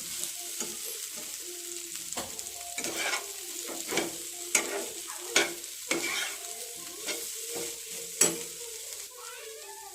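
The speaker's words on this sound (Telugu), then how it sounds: "కాసేపటి తర్వాత మూత ఓపెన్ చేసి ఇప్పుడు దీన్ని కలుపుకోవాలండి." A spoon stirs aloo tomato curry of potatoes in a covered pan, scraping and sizzling in a steady rhythm of repeated strokes, close and fairly loud, with no talking.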